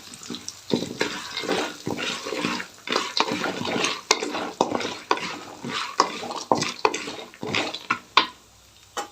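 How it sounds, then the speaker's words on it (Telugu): Peanuts frying in a pan for a Rayalaseema-style hotel gravy, with irregular sharp scraping and stirring strokes against the pan over a soft sizzle, close and fairly quiet, ending in a brief lull. "ఇప్పుడు పల్లీలు వేస్తున్నాం పల్లీలు వేస్తున్నాం ఇందులోకి ఇవి కొంచెం బాగా వేగేలాగా వేస్తున్నాం"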